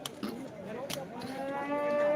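Cattle lowing at a busy bull market in Chalisgaon, with a crowd murmuring and a few sharp knocks in the background.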